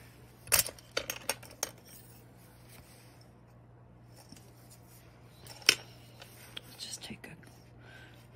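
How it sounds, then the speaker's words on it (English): A piece of cured polymer clay is cut, giving sharp metallic snips and clinks in brief clusters separated by quiet gaps, with soft whispered speech now and then. "let me cut a little piece."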